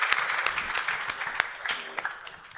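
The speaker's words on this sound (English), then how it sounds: "So a big round of applause for Asam Zafar Sahab and Qadri Sahab." Applause at an international legal conference award presentation, a moderate crowd clapping steadily with scattered sharper claps standing out, at a middle distance throughout.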